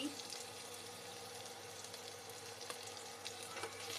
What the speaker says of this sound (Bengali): তেল গরম হয়ে গেছে এবার পেঁয়াজ দিয়ে দেবো পেঁয়াজ কুচি